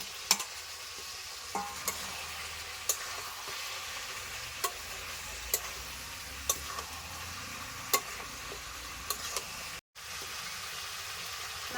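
Pork curry with fried potatoes stirred in a frying pan, a steady sizzle under regular sharp scrapes of the spoon against the pan, close and clear, with a brief dropout near the end and no talking.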